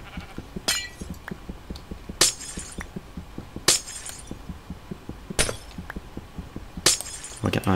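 Repeated glass breaking in the video game In the Aether 2: five bright shattering bursts at roughly even intervals, each crisp and close, over a steady patter of light clicking footsteps with no talk.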